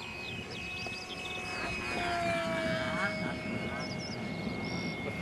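A HobbyKing AT6 Texan FunFighter RC plane on electric power runs at full throttle on a four-cell pack, its steady whine shifting in pitch as it passes overhead, with people talking nearby throughout.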